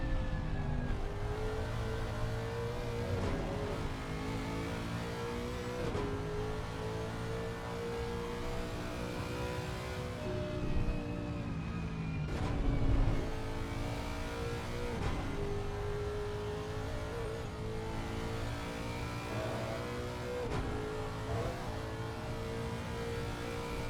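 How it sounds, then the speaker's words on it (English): Onboard a Lexus race car lapping the Nordschleife in a six-hour endurance race, the engine drones loud and steady with shifting pitch, briefly stuttering against the rev limiter midway through. "You could hear the sound of the engine just hitting the rev limiter as it did the little jump over the top of the hill"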